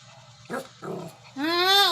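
A pet dog gives two short low growls, then a longer whining, rising vocal rumble, close to the microphone in a quiet indoor room.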